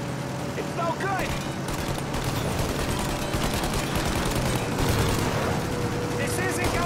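Sustained gunfire aimed at a plane's engines during a Mafia Definitive Edition shootout, dense overlapping shots and booms over a constant roar, with voices talking throughout.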